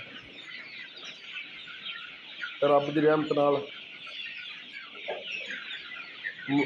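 Desi chickens about forty days old cluck and chatter steadily on a winter poultry farm, while someone speaks briefly over the flock's constant background calls.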